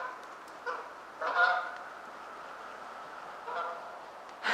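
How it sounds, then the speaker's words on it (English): Geese honk in a few scattered bursts from a distance, faint calls over a quiet autumn background near a cottage. "Can you hear the geese?"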